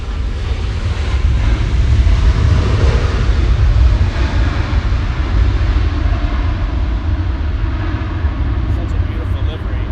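A Virgin Atlantic airliner passes overhead near LAX, a loud broad engine roar that swells and then slowly fades as it moves away.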